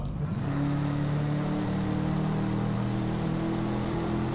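Koenigsegg Regera in the racing game Driveclub, its single-gear drivetrain pulling away in one long unbroken rising whir with no gear changes, a smooth electric-sounding climb that holds steady and loud.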